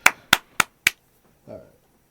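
Four sharp, evenly spaced hand claps ring out close to the mic after a joke during a casual podcast-style chat, followed by a brief, soft voiced sound.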